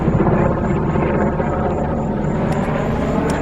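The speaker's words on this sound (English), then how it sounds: "one of my favorite choppers" A CH-53 military helicopter passes overhead, a loud continuous rotor and engine roar with a steady whine, heard from a boat on a fishing trip.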